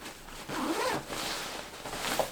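A zipper on a brand-new ripstop nylon packing cube is pulled closed in one continuous, close, scratchy run that lasts about two seconds, with no talking.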